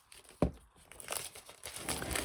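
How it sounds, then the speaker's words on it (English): A cardboard craft-kit box is opened at close range, with a sharp snap followed by soft rustling and crinkling of paper and cardboard, faint and alone. "So I'm going to open up the box."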